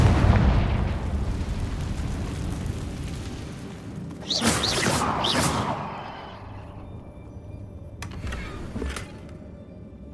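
In Hogwarts Legacy, a Confringo fire spell goes off in a rumbling burst with whooshing flares, followed by a couple of sharper bangs as the blast fades.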